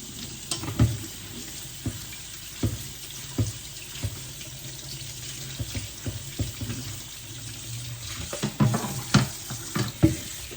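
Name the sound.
rinsing vegetables under running water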